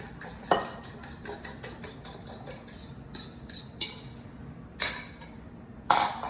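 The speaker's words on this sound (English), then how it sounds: "We just beat up these 4 eggs just a little bit" Metal utensil clinking against a bowl while four eggs are lightly beaten for brownie batter, a quick run of rhythmic taps followed by a few louder, spaced knocks, close and alone.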